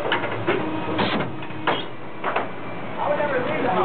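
A Saber Cutter CIP3 cutting machine cycles its cutter, giving mechanical whirring and clunking bursts with a voice talking over it.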